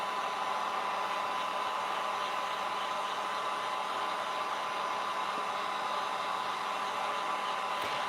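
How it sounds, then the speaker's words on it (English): Heat gun blowing hot air to dry acrylic paint on a tin can, a constant loud, close airy roar that holds steady throughout with no pauses. "Let's get our heat gun. And it doesn't take very long to dry that acrylic paint."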